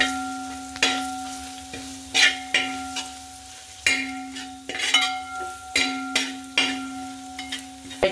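Tripe and pepper powder sauté in a pan, with about a dozen clanking, scraping stirs of a metal spoon coming in an uneven rhythm over a low sizzle, close up and with no talking.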